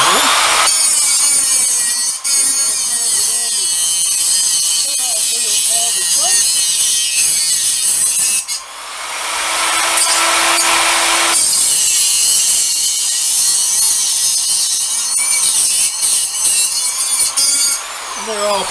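One-inch bolts that are too long are cut off with a power saw, giving a loud, continuous, harsh grinding whine that drops briefly in the middle, with a voice heard faintly underneath.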